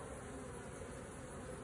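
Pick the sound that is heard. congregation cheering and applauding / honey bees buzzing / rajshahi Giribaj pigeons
honey bees buzzing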